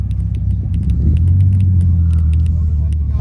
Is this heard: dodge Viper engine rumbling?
yes